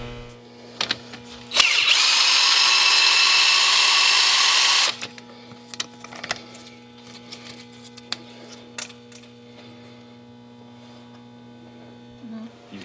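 A TurboSocket on a power drill working out a stripped socket head cap screw in a shop, heard as one loud whirring burst of about three seconds over steady mains hum, with clicks and handling noises afterward.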